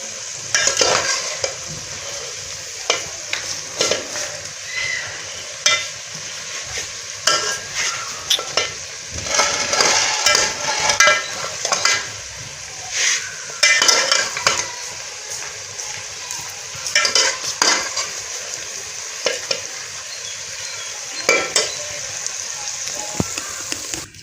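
Cooked cauliflower (gobhi) being served out of a cooking pan in a home kitchen: a spoon scrapes and stirs against the pan in repeated soft strokes, with a faint sizzle-like hiss underneath and no talking.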